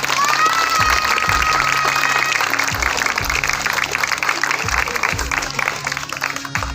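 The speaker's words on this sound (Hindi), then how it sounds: "तालियां बजाइए।" Crowd at a village Republic Day flag-hoisting ceremony breaks into loud, sustained clapping and cheering, with children shouting and a few whistles over the dense applause, and some voices mixed in.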